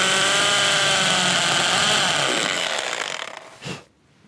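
A 6 mm drill bit bores a hole through a flower pot disc for a homemade birdhouse, giving a loud, steady whining grind for about three and a half seconds that cuts off abruptly, followed by a brief lower thump.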